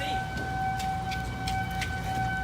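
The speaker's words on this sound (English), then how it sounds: "Got tornado sirens going off" Tornado sirens wail steadily in the distance, a sustained tone over windy outdoor rumble with faint gusts, no talking.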